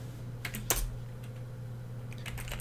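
Keys tapped on a computer keyboard in short clusters, a few quick strokes near the start and another run toward the end over a steady low hum, no talking.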